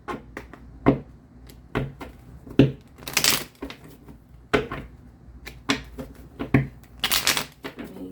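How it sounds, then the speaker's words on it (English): Tarot cards are shuffled in quick bursts, riffling and slapping close by, with brief pauses between each round of crisp papery flutter. "I'm gonna shuffle."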